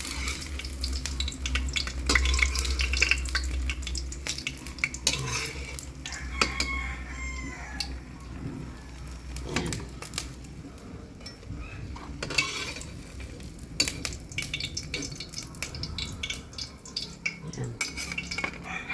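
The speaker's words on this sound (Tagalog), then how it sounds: "Iprito lang namin yan." Homemade banana blossom burger patties frying in a pan, with a steady low sizzle and occasional scraping and stirring clinks of a utensil, while a rooster crows in the background.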